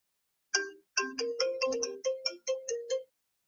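Telephone ringing for a radio call-in show, a clear electronic ringtone melody of quick tonal notes, heard alone and close with silence before and after.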